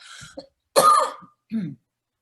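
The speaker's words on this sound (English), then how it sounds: "Sorry, I got a cough." A woman coughs and clears her throat in two or three short, sharp bursts, close and fairly loud, separated by brief silence.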